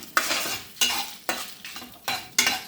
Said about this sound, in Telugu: ఫస్ట్ వెల్లుల్లిపాయలు ఎండుమిరపకాయలు కొంచెం వేగాక జీలకర్ర